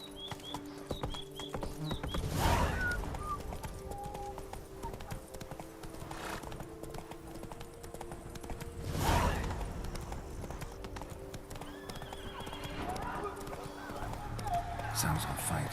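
A horse in The Witcher 3 gallops with steady rhythmic clip-clop hoofbeats, joined by a couple of whinnies and a rider's voice calling out over game sounds.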